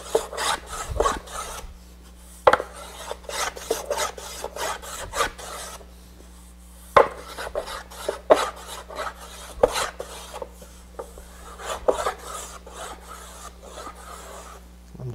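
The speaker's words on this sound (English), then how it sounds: "Just getting very narrow shavings at first, and then they get increasingly wider." A hand tool shaves and rasps curved wood for a coopered door, producing rhythmic scraping strokes up close, repeated in quick steady bursts with short pauses between passes and a faint low hum underneath.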